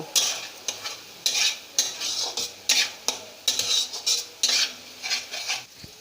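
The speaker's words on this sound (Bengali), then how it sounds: "এবার আমি মশলাগুলোকে ভালো করে কষিয়ে নেব" Spice paste with garlic and ginger paste being sautéed in a pan, a rhythmic series of sharp spatula scrapes and clinks over a steady sizzle, about a dozen strokes, close and without speech.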